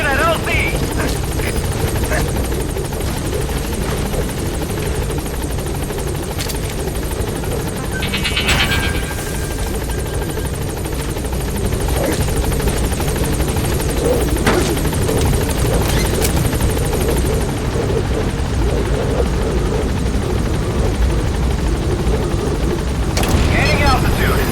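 Pequod helicopter in Metal Gear Solid V arriving at a landing zone, with loud constant rotor thrum and whine that continues throughout, and a radio voice speaking over it.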